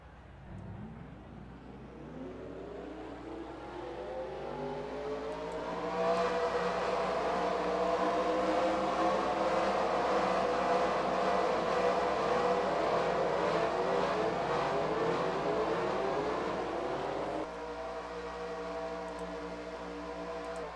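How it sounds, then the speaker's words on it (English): Race truck engines in a NASCAR-style racing game at Talladega fire up together, building from a low rumble into a loud, steady massed revving drone that holds for several seconds before dropping slightly as the engines settle. "Drivers, start your engines! Command has been given. The engines will fire."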